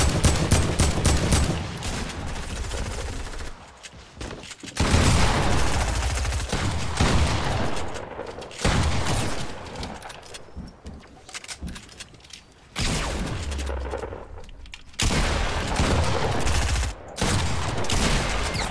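Video game gunfire crackles in heavy, repeated bursts, loud and close, with brief pauses between volleys and rapid automatic fire.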